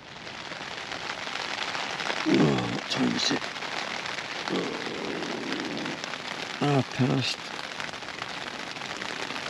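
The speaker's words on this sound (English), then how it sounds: "Rain started to come down again. Heavy." Heavy rain drumming on a Helm Compact 1 tent during Storm Ciaran at a wild camp in Wiltshire, a dense steady patter close overhead throughout, with someone speaking briefly over it.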